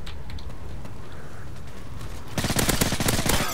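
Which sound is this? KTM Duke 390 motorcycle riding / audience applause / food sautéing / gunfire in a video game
gunfire in a video game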